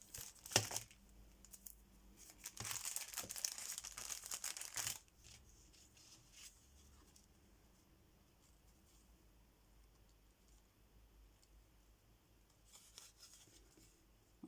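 Paper being cut on a bias for a decorated envelope: bursts of crisp crinkling and snipping, then quieter faint rubbing and small scrapes, with another short rustle near the end, close and alone.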